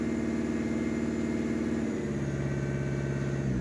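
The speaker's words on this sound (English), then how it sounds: "We need to rev it up in a second. Yeah, rev it up." Ford Fusion engine with a black smoke and no power fault, running steadily and close up; its hum shifts pitch about halfway through as the revs change.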